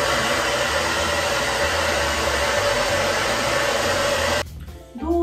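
A hair dryer blows loudly and steadily close by while hair that was just treated with camellia oil is dried, its broad whooshing roar running for about four seconds before cutting off abruptly.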